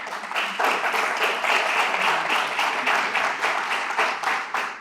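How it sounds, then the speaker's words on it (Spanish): Sustained applause from an audience at a ceremony, greeting the president of the Iván Tovar Foundation; dense, even clapping fills the whole stretch without a break. "para quien pido un aplauso, por favor"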